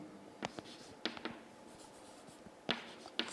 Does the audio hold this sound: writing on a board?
yes